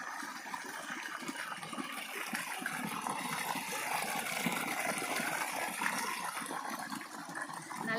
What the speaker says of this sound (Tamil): நல்லா தண்ணி போயிட்டே இருக்குதுங்க